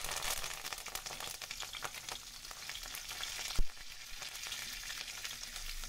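Cumin seeds and curry leaves sizzle and crackle in about four spoons of hot oil in a kadhai for a Maharashtrian katachi amti, a steady close frying hiss with scattered pops and one sharp clatter midway.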